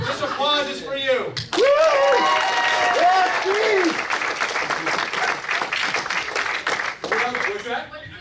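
Audience applause at a magic show swells into a loud, dense burst after a few seconds of talk, then carries on under intermittent speech and light laughter before thinning near the end.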